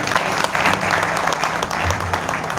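An audience claps steadily and warmly for the singer at a music concert, a dense and continuous round of applause with no other sounds clearly heard.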